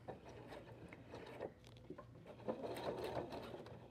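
Sewing machine stitching fabric along a fold for a makeup bag, with faint uneven mechanical clicking and whirring at close range, quiet and without speech.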